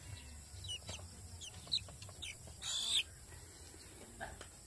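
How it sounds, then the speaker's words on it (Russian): A domestic hen in the Philippines gives scattered short clucks close by, with quiet rustling and a brief burst of noise between them. "вот это вот у нас курочка, которая практически домашняя"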